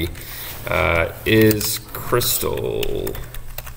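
Fast, aggressive clatter of typing on a computer keyboard, dense clicks running throughout, partly under a person speaking briefly.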